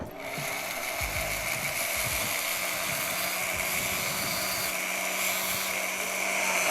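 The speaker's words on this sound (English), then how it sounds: "Now I'll get another cylinder burr out, another knife edge cutter rather, smaller size, and I'll make the mouth." Small rotary knife-edge cutter burr carving bone, a steady high-pitched whine with short grinding bursts as it bites, close and continuous.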